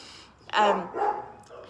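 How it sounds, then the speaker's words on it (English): Dogs barking in the background while a person talks, two loud, drawn-out bark or yelp bursts close together, partly blended with the voice. "I apologize for these revolting dogs."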